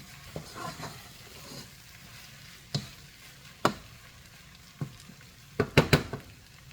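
Quinoa cooks in ghee in a pan with a faint, steady sizzle, broken by a few sharp clicks and scrapes of a utensil stirring against the pan.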